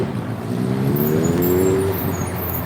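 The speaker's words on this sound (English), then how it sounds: "With all that damn loud ass motorcycle though." A loud motorcycle roars past nearby, its engine tone swelling and then fading over about two seconds, with steady traffic noise running under it.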